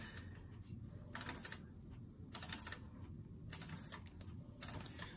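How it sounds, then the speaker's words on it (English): A home printer making an odd mechanical noise, with faint clattering and rapid ticking bursts that come and go over a low steady whir, quiet and close by with no talk. "I don't know what's up with my printer"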